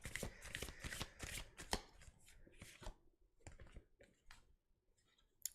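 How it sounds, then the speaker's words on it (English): Tarot cards are shuffled in a quick riffling flurry, followed by a few softer, scattered card taps and slides, quiet and close with no talk. "shuffle the cards."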